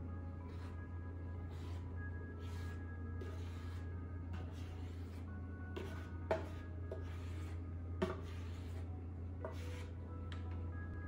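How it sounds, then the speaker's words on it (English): Dry ingredients (flour, salt, baking powder and pumpkin pie spice) whisked together in a bowl, giving a soft, scratchy rubbing that comes in repeated strokes over a steady low hum, with a couple of sharper clinks. "the first thing we're going to do is whisk together our dry ingredients, the flour, salt, baking powder,"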